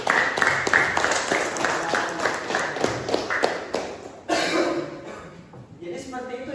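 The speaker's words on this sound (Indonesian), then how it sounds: "Kasih aplaus dulu untuk kalian semua." A classroom group gives a round of applause, a dense spread of many hands clapping close by that runs steadily and shifts in texture partway through, with some voices mixed in.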